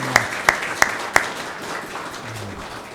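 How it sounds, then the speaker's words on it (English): Short burst of audience applause for Eagle Scout timekeepers at a town candidate forum in Double Oak, a few sharp claps standing out early before the clapping thins into room noise. "I'd like some applause for our Eagle Scouts over here for the timekeepers"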